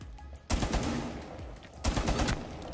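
Mounted machine gun in Rainbow Six Siege fires two loud, rapid bursts of rattling shots, the second starting after a brief pause, close and dominant.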